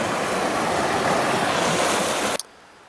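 A river rushing at a Pacific Crest Trail crossing in Washington, a dense, close roar of moving water that holds steady and loud, then cuts off abruptly near the end, leaving near silence.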